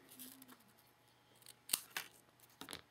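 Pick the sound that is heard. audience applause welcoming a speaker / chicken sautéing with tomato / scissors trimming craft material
scissors trimming craft material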